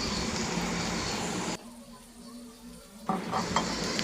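Onions frying in a pan for a beef dish: a steady, close sizzle that drops away abruptly for over a second, then returns with a few clinks of utensil against pan.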